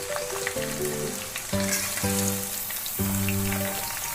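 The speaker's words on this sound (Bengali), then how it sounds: "তেলটা গরম হওয়া হয়েছে দেখার পরে আমি পেঁয়াজটা ছাড়লাম আঁচটাকে একদম ধিমে করে নিয়েছি" Sliced onion fries in hot oil on very low heat for chicken kosha, a dense steady sizzle like rain under a few stirring scrapes, near and fairly loud, with a faint tonal hum running through it.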